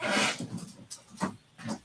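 A dog panting and snuffling nearby as it is let into a house, with a few short breathy bursts spread over a couple of seconds.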